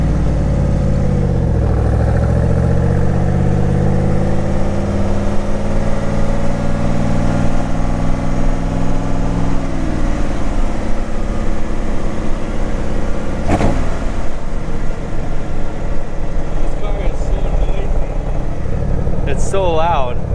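An AC Shelby Cobra's engine rumbles loudly and continuously while driving, with deep low-pitched revving that rises and shifts pitch, a sharp transient midway, and a person talking over the engine noise.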